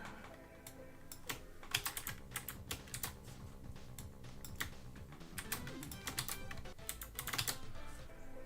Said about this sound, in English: Sorry, you get to hear me go clickety-clack while I set up the wheel.